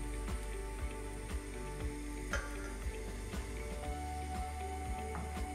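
Green coconut pancake batter for Malaysian kuih dadar sizzles steadily in a hot oiled pan, a close, continuous fry with scattered ticks and pops and no voices.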